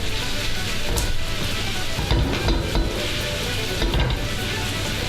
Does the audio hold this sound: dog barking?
no